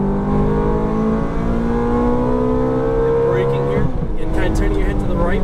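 A Ferrari F430 accelerates hard at full throttle, its engine note climbing steadily and loudly before a shift and renewed pull near the end, with a voice talking over it.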